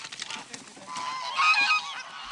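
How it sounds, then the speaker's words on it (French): A flock of geese honks repeatedly at close range, overlapping calls growing louder midway, geese unused to performing with a young dog nearby. "C'est des oies qui n'ont pas l'habitude de faire ce spectacle-là"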